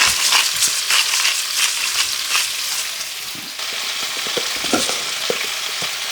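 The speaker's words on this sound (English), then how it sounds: "All I want to do is brown the beef off." Beef seasoned with black pepper and salt browns in a hot pan for a steak and Guinness pie, giving a continuous close sizzle with occasional stirring scrapes and crackles.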